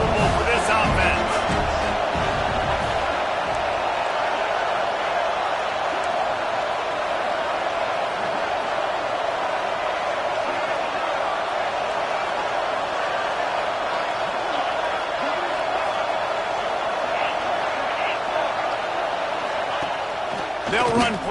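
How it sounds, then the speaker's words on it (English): Dense, steady roar of a stadium crowd at a college football game, continuous and distant-sounding, holding at an even level throughout with no clear individual voices. "This crowd trying to make life miserable for this offense."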